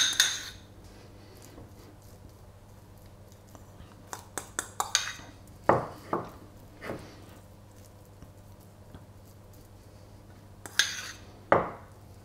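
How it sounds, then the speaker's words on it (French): Metal utensils pressing rosemary butter onto a beef roast in a kitchen, heard as scattered faint clinks and scrapes with short pauses between them, soft and close against a low background hum. "On va venir écraser le beurre comme ça."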